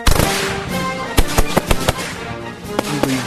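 A rapid volley of sharp explosive bangs and crackles from Independence Day fireworks, loud and close, with several heavy booms standing out over a continuous crackling background.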